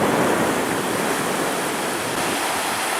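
Waves at high tide on a beach along a Texas to Florida road trip route, a steady broad rushing wash of surf, close and fairly loud, with no talk over it.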